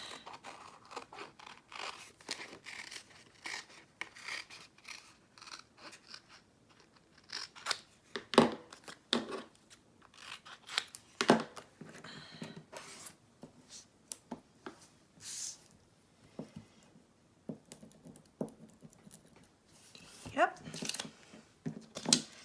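Scissors snip through a slippery Holy Cow rub-on transfer sheet, a series of sharp crisp cuts and crinkles scattered between quieter stretches, close up, with faint talk in the background.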